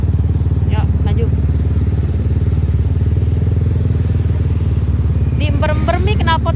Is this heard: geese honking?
no